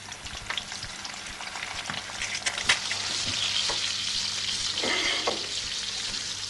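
Bacon and eggs sizzle and spit steadily in a pan for breakfast, with a constant crackling fry broken by occasional sharp pops and light stirring scrapes, close and moderately quiet.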